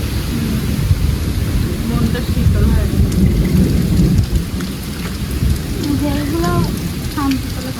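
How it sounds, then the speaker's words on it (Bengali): Heavy rain pours steadily with a deep rumbling undertone, while a voice talks intermittently over the downpour. "বৃষ্টিও বৃষ্টিও হচ্ছে"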